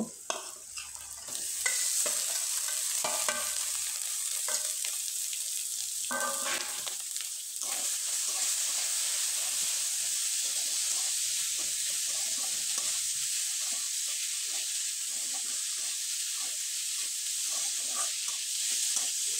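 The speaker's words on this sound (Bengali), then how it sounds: "কিছুক্ষণ খুব ভালোভাবে নেড়ে চেড়ে নিলাম।" Boiled potatoes frying in a pan give off a loud continuous sizzle and hiss while being stirred, with scraping strokes heard clearly over the steady frying noise.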